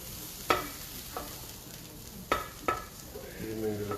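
Shakshuka sizzles in a hot Teflon pan on a BBQ, a steady soft frying hiss punctuated by several sharp spatula scrapes and knocks against the pan, close by with no talking.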